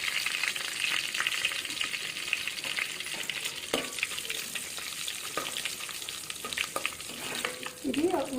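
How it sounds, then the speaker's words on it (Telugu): Whole spices crackle and sizzle steadily in hot oil in a pan, with scattered pops and occasional stirring scrapes, close and continuous without speech. "ఇది 1 మినిట్ పాటు ఫ్రై చేసుకోవాలి."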